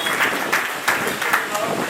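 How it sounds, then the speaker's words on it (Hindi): A crowd claps in a dense, continuous patter at a birthday celebration in an auditorium, with a few louder swells as the applause carries on. "एक बार जोरदार तालियां"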